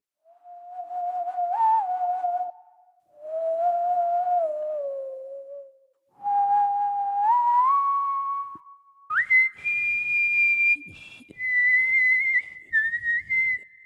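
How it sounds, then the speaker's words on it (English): Calm, melodic whistling in slow phrases with pauses, notes gliding up and down, then rising higher near the end, clear and reverberant, echoing through a cave. "you can hear echoing through the cave outwards a calm, sad whistling"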